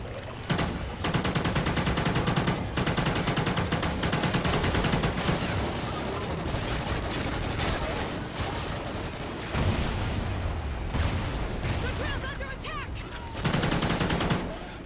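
Rapid sustained minigun fire in Call of Duty: Ghosts alien mode, a dense continuous roar of gunfire running nearly the whole stretch with brief pauses between bursts, loud and close, mixed with game effects.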